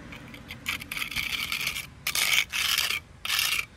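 Trowel spreading and scraping crack filler into a driveway crack, a series of short rough rasping strokes, close and fairly loud, separated by brief pauses.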